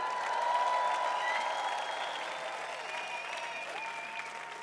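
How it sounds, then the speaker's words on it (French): A crowd applauds steadily at a hip hop dance battle final, a dense, even wash of clapping that holds at moderate loudness for several seconds, with faint whistles and cheers mixed in. "Plus d'applaudissements pour eux, s'il vous plaît."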